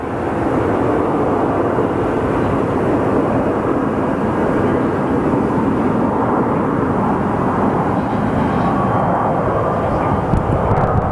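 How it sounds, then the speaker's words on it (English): A light airplane taking off at Phoenix Sky Harbor Airport, its engine roar loud and steady throughout at close range, a broad continuous rumble with no break. "He should be fairly light, so this is going to be a very, very quick takeoff."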